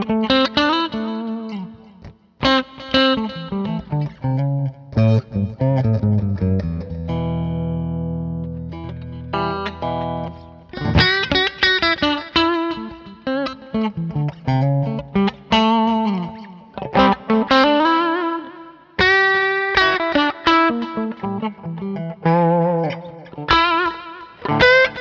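Modified Epiphone SG Special electric guitar played with an out-of-phase pickup setting, giving a thin, quacky tone through distortion and effects. Chords and single-note lines ring out loud and alone, with a sustained low chord in the middle.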